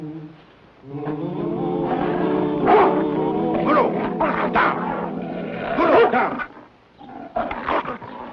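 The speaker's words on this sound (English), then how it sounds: "That's a real fine bear dog you got there, Huntsman." A bear hunting dog barks and bays loudly in a wooded setting, with several sharp, harmonic outbursts spread across the stretch and voices speaking around the barking.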